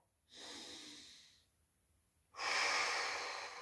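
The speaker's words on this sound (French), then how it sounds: "là on expire par la bouche" Two long breaths pushed out through the mouth during a calm breathing exercise, a softer exhale followed by a pause and then a stronger, louder one, close and alone with no talking.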